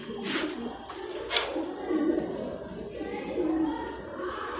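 Low, throaty cooing from a group of Alexandrian pigeons kept for sale, repeated soft calls at close range with a couple of sharp knocks and someone speaking over them.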